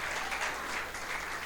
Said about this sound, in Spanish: bríndale un aplauso al Señor